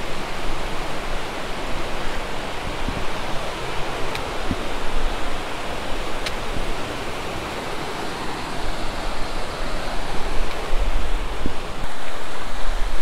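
A mountain river rushes past a trail crossing during an alpine ultra race around Verbier, its steady broadband roar filling the scene close and loud from start to finish, with no voices over it.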